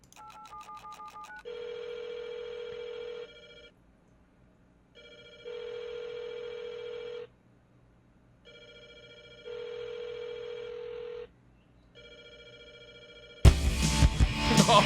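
A telephone in the game Rust rings in three repeated bursts with pauses between them, steady and fairly loud, preceded by a short keypad-like dialing tone and ending in a sudden loud, harsh burst of noise.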